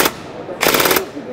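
Airsoft gun with a Jefftron Leviathan-V2 mosfet set to fire six-BB bursts, giving two rapid, close, loud bursts of mechanical firing clatter separated by a short pause.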